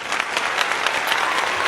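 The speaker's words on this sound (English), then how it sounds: "Indeed, there's a lot of claps going on." Steady applause from a room of people at a critical care team gathering, dense and continuous clapping at close range with no break and no voices standing out.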